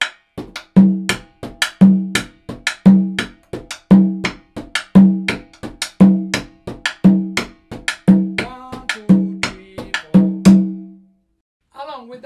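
Conga played in an African-style pattern for an afrobeat pop track, a steady run of sharp, resonant hand strikes in a repeating rhythmic figure, close and loud, ending with a brief pause.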